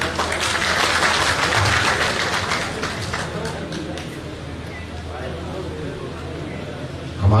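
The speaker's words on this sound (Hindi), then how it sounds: "तालियां।" An audience at a Rajasthan government ministers' swearing-in ceremony claps in sustained applause that gradually thins and fades over several seconds, with voices audible alongside.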